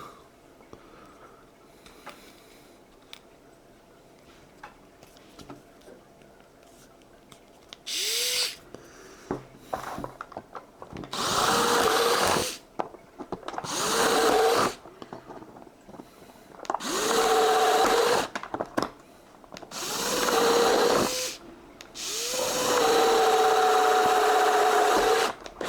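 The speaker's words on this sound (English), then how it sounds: "it's a very solid little mini drill" A small HOTO Snapbloq mini power drill whirs in repeated bursts of a few seconds each, starting and stopping, with quiet handling noises between runs.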